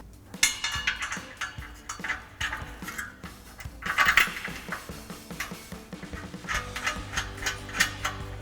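A ratchet turns in quick clicking bursts as exhaust bolts are tightened on a 2009-2021 Toyota Tundra during an MBRP 3-inch single exhaust install, with repeated close, metallic clicks and pauses between runs.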